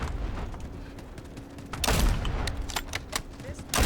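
Sniper rifle fire in a Battlefield-style war video game, a few sharp cracks in the second half over a busy battlefield bed of distant gunfire, each shot followed by a brief trailing rumble.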